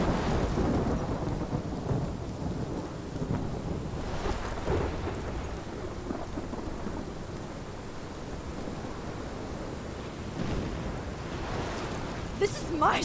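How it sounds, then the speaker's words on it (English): Thunderstorm with steady heavy rain and a low, continuous rumble of thunder throughout, swelling in brief louder rolls, with a sharper crack near the end. "This is my storm."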